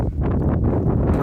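Gusts of wind buffet the microphone during a walk through a snowstorm, a dense close rumble with brief surges and no talk.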